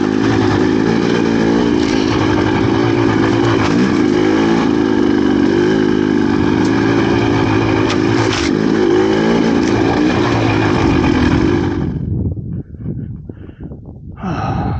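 A GPX TSE300 motorcycle engine drones loud and steady while being ridden, holding an even tone with a rough rumble and wind buffeting, then drops away in the last few seconds to quieter scattered noise.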